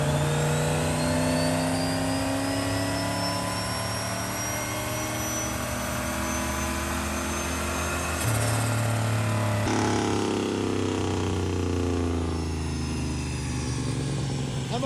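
Turbocharged V8 police car run wide open on a race track with the wastegate off, a loud sustained engine roar with rising whine and a gear-change shift partway through, close and steady throughout.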